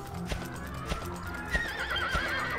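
Inside the PS2 game Dragon Quest VIII, a horse gives a wavering, shrill whinny while heavy hoof thuds land at a slow, regular pace, all close and clear over a soft background.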